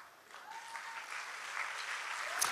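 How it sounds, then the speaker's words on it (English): A church congregation clapping at an Easter Sunday service to welcome visitors, a soft, continuous patter of many hands heard at a distance, steady and fairly faint throughout. "Let's keep clapping for them."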